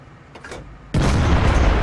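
A Type 4 heavy tank fires in World of Tanks: faint rumbling at first, then one sudden loud, close cannon blast that rolls into a sustained booming roar.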